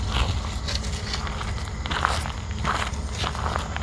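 Small kittens gallop along an outdoor rail trail, their quick, light footfalls patter in a continuous uneven rhythm over crunchy ground, close by and fairly soft, with no talking.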